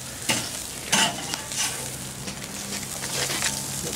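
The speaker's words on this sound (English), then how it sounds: "grilling our eggplant" Eggplant sizzles steadily on an outdoor grill, with a continuous close hiss and occasional louder crackling pops.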